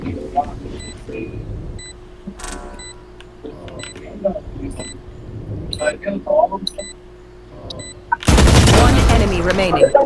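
Rifle gunfire in the tactical shooter game Valorant comes through as scattered sharp shots over game sounds and talk, ending in a dense loud burst of fire in the last two seconds.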